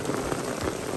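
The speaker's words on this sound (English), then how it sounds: "Heavy rain" Heavy rain pours steadily, a dense continuous hiss of drops drumming on surfaces, loud and close throughout the short stretch, with no voices.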